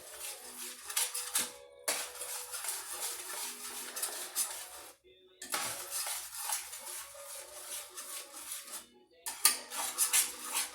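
A utensil scrapes and clinks against a pan while scrambled eggs, Denver style, are stirred, giving repeated close metallic taps and scrapes in uneven bursts with short pauses between.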